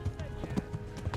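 A horse gallops in Kingdom Come Deliverance with quick, uneven hoofbeats in a short burst, fairly close, with a faint snort mixed in.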